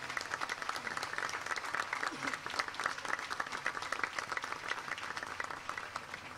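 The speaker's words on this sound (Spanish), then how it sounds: "Un aplauso para nuestro seminario." A church congregation at a Catholic Mass applauds warmly for the seminary, a dense, steady wash of many hands clapping that fills the space evenly throughout without letting up.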